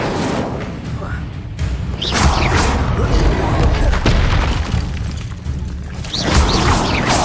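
Incendio fire spell effects in Hogwarts Legacy, a loud, continuous stream of bursting booms, thuds and whooshes in busy combat, with a spoken spell call over the top.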